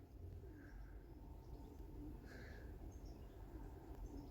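Soft, low cooing from racing pigeons imported from Holland, a few gentle calls heard faintly at close range over a steady low background hum, with no voices.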